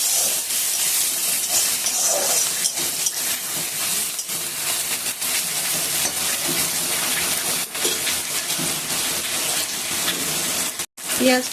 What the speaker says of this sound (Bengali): ব্রাউন কালার করে ভেজে নেব পেঁয়াজটা